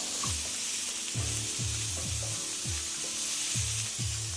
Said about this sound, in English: we've got some finely diced onion, celery, some carrot. Just fry this for a little while.